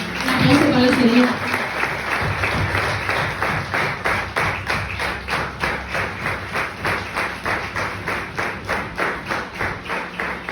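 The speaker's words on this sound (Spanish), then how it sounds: "Un aplauso para el Señor." A church congregation bursts into applause during a youth-led service, many hands clapping together in a loud, dense wash that settles into a steady rhythmic beat, with a voice speaking briefly at the start.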